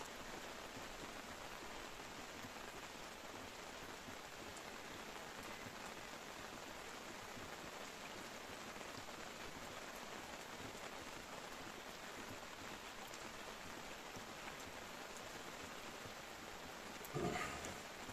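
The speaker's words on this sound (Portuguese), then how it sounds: "Chuvinha de inverno." Light winter rain falls steadily during a tilapia fishing outing, a soft even hiss of drops lasting throughout, with a brief knock near the end.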